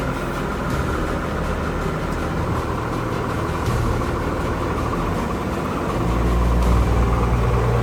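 A car engine hums at a steady low idle, close and constant, then swells louder near the end as a learner driver gives it gas.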